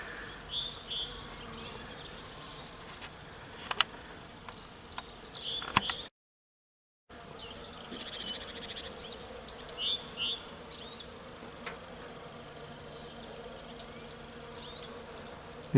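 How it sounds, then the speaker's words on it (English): Bees swarm around a tree outdoors, making a very quiet, steady buzz that sits low in the background alongside faint insect and bird sounds, with a brief drop to silence partway through. "you can hear a very quiet buzzing sound, because around this tree there are lots of bees"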